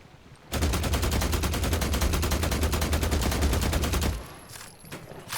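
Sustained automatic gunfire in a video game, a dense rapid burst of rounds lasting about four seconds, loud and close, then cutting off to quieter ambient game sound.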